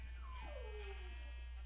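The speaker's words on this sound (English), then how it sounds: "My dog is crying at the door." A dog cries at a door, a single drawn-out whimpering howl that slides downward in pitch, faint under a steady low hum.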